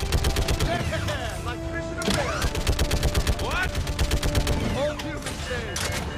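Dense sci-fi gunfire from the video game Mass Effect 3, with rapid repeated shots, bursts and whooshing weapon effects over a battle soundtrack, loud and continuous throughout.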